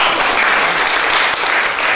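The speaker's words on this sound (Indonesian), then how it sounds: "Tepuk tangan dulu buat Tuhan." A congregation at a Sunday church service bursts into loud, dense applause that holds steady and close for a brief moment.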